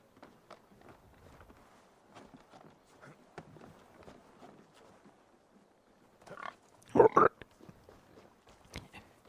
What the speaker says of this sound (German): Ihr Schweinchen.